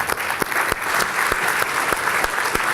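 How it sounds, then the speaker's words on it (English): A conference audience claps steadily for a keynote speaker at a state policy forum, with dense, sustained applause and no voices over it. "So let's give him a round of applause."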